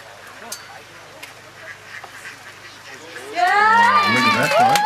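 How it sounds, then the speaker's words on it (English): A flock of ducks at an Australia Day display breaks into loud, overlapping quacking partway through, after a quieter stretch of outdoor background noise. "This is synchronised duck manoeuvring."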